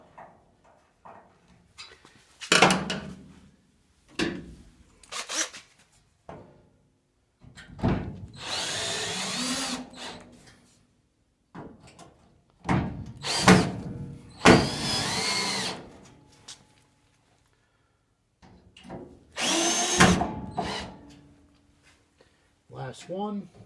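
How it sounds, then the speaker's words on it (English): A power drill drives large sheet metal screws into a 1947 GMC truck in several short bursts of whirring, each lasting a second or two and separated by pauses and quiet handling noises. "To get them all started, I'll just drive them in with the drill."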